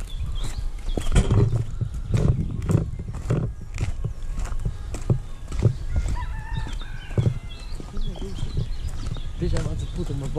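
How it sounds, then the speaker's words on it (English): A rooster crows in short rising calls amid farmyard clatter, clucking fowl and hoof-like clip-clop, with people talking nearby throughout. "a big rooster"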